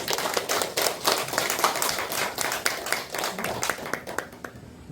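A church congregation claps in thanks during a sermon: many hands beat out a brisk, fairly rhythmic applause at moderate distance, tapering off toward the end.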